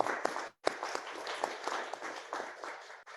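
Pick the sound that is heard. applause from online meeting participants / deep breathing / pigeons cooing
applause from online meeting participants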